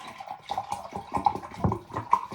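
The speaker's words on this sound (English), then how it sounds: "I will add about a liter of water" Water pours in a steady, splashing stream into a blender jar holding fennel for a fennel and orange smoothie, with bubbling, gurgling surges close by and no talk.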